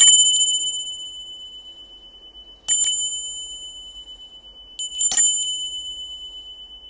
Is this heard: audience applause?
no